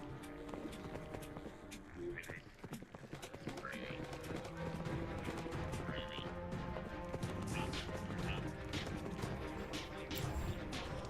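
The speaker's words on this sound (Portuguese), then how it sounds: "Acho que meu cavalo me abandonou" Clip-clop of a horse's hooves in Minecraft Bedrock Edition, with in-game clatter and other game sounds layered over a busy, fairly quiet mix.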